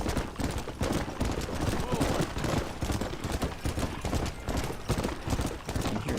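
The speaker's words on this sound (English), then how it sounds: "I can hear gunshots up there." Bursts of gunfire crackle repeatedly through a Red Dead Redemption game scene, mixed with rhythmic horse hoofbeats and someone talking.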